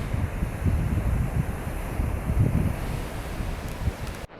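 Waves washing onto a public beach below sand dunes at Dong Hoi, a steady broadband rush of surf with some wind on the microphone, moderately loud and continuous, cutting off abruptly at the end.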